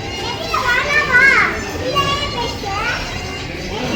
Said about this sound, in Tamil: எப்படி கத்திட்டு இருக்கா பாப்பா.